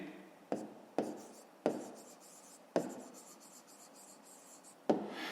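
Pen writing out an answer during a fifth-grade maths lesson: five distinct scratchy strokes, each starting with a sharp tap and trailing off, close and quiet, with no talking.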